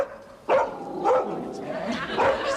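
A small dog gives several sharp, close barks in a domestic hallway, spaced about half a second apart, with talk between the barks.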